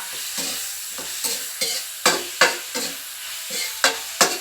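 Repeated scraping stirs pork sausage in a frying pan with a soft sizzle underneath, about a dozen strokes in a steady rhythm, close and moderately loud.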